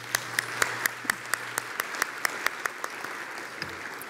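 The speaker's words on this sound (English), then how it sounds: "Ladies and gentlemen, let's give them another round of applause." Another round of applause at a National Philanthropy Day event, with steady crowd clapping and a few sharp, closer individual claps standing out through the four seconds.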